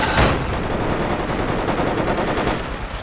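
Dense gunfire and a sharp grenade blast from a Project Reality Battlefield 2 battle, a loud burst near the start followed by continuous rattling automatic fire and scattered shots for the rest.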